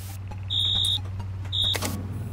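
Alarm going off in a horror video game: two short, bright electronic beeps a moment apart, sounding over a low steady hum.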